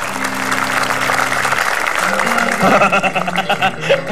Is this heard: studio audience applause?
yes